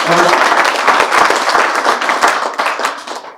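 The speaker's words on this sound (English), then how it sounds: "Round of applause, please." A crowd applauds steadily, dense clapping filling the room and gradually tapering off toward the end.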